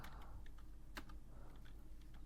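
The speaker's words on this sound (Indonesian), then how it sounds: "Di sini saya akan mengetik intfa 0/0" Keys clatter on a computer keyboard while entering router commands in a network simulator's command line, a close, quiet series of irregular taps with one sharper keystroke.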